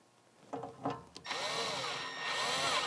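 A power driver sends a screw into the filter shroud of a MAG-200 dust collector, a couple of short bursts followed by a steady whirring run, close and fairly loud.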